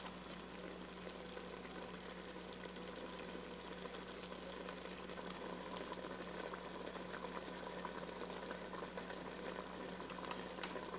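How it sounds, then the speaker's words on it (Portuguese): Jackfruit simmers in sugar syrup for a homemade sweet, giving a faint, steady bubbling and soft hiss throughout, quiet and without any talk. "Vocês precisam deixar cozinhar bastante"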